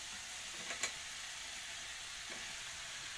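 Chopped tomato drops into sautéed cauliflower and beans in a pan, giving a soft, even sizzle with a brief louder splash near the start and then a quiet, steady fry.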